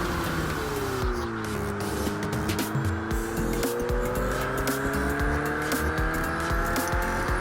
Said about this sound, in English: that's Brands Hatch in a Ferrari on Project Cars 2